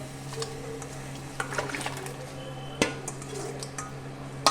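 Homemade potato chips drop into a pot of boiling water, with a steady low bubbling hum, a few metallic clinks and one sharp splash partway through.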